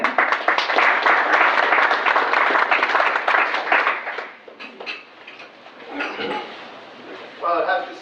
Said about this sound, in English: If we could give a round of applause to Mr. Minnick.